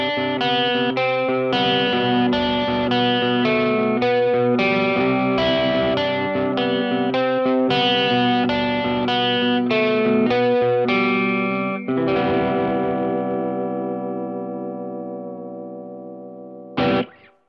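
Nordin Nebula electric guitar played through a Kemper amp with a processed, effects-laden tone, a run of picked notes and chords ending in a long sustained ring and a final short strum.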